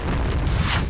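A grenade blast in the Point Blank shooter game, a loud, dense booming burst filling the whole second with rumbling low end and a rushing high crackle, heard alone without voices.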